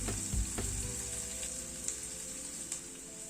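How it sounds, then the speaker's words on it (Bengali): Onion fries gently in oil in a pan over a lowered gas flame, a steady, moderate sizzle with a few soft knocks and crackles. "পেঁয়াজটাকে একটু ফ্রাই করে নিলাম।"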